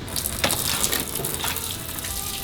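Old transmission fluid from an El Camino pouring onto a garage floor, a steady splashing gush with patters of liquid close by.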